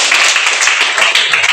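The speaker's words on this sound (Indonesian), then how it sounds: "tepuk tangan untuk Dirli." Students in a classroom clap for a classmate named Dirli, a brief burst of loud, close, dense hand clapping from a small group.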